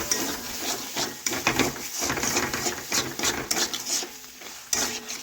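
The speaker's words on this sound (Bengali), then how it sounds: "এখন আমি আবারও একটু নাড়াচাড়া করে কষে নিচ্ছি" A spoon scrapes and stirs vegetables and shrimp around a pan, a continuous close clatter of utensil on metal over a low sizzle, with no voices.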